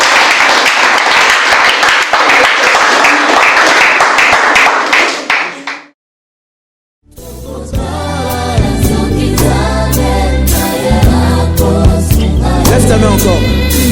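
A church congregation claps rhythmically in a dense, loud burst that cuts to a second of silence before loud music takes over.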